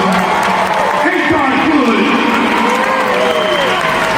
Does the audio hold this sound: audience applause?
yes